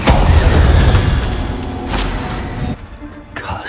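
Incendio fire spell cast in Hogwarts Legacy, a loud whooshing, roaring burst of flame that surges and fades, then cuts off and is followed by a short second burst.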